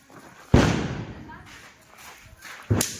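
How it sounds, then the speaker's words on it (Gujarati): Diwali firecrackers, small bidi bombs and poppers, go off in two sharp, loud bangs a couple of seconds apart outdoors, with a faint murmur of people between them. "એક બીડી બોમ્બ ફોડે છે, એને સુરસુરિયા થાય છે, તો એક આ પોપ પોપ ફોડે છે"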